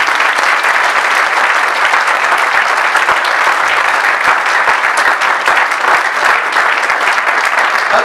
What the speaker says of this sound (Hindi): रूह कुदस की हजूरी मामूरी के लिए जोरदार तालियां बजाएं